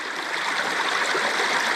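A small stream flows steadily outdoors, a continuous close rushing and gurgling of water with no voices.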